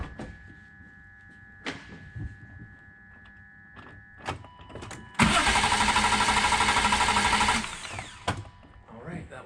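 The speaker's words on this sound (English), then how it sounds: "I'm cranking the motor in just a second" A 1997 BMW 328i engine cranks on the starter for about two and a half seconds, a loud rapid rhythmic churning that stops without catching, with quieter clicks, a faint electrical hum and a few soft knocks around it.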